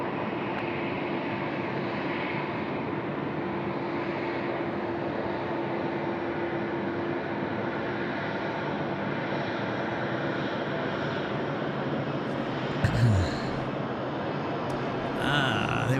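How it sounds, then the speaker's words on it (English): An Emirates Boeing 777-300 pushes back at Sydney Airport at night, heard as a steady, distant engine roar that stays even throughout, with a brief knock near the end. "just creeping out there in the background is our Emirates 777 freight, not freighter, just the Emirates 777 is pushing back"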